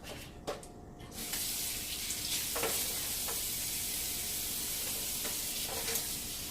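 Two thin steaks laid flat in a pan, a quiet start with a couple of knocks, then a steady hissing sizzle swelling in and holding, with occasional soft clinks and taps nearby, no speech.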